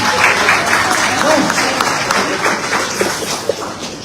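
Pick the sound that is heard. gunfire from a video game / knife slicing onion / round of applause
round of applause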